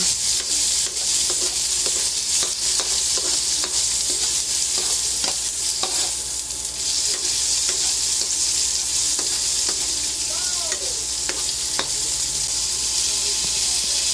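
Tomatoes sauté in a hot pan while being stirred, giving a constant loud sizzle with scattered scraping and clicking of a spatula, heard close with no voices.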